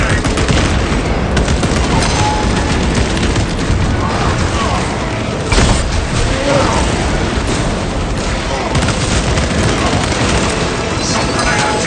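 A shock grenade bursts in a sci-fi shooter amid relentless gunfire and explosions, forming a loud, dense wall of rapid shots and booms with a sharper blast partway through, under occasional radio-style voice lines.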